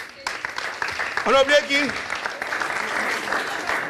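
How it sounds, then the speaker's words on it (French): Audience applause at an awards ceremony for young leaders, a steady wash of clapping running under and after a man's spoken question and some tonal vocal sounds. "Est-ce qu'on peut applaudir très très fort?"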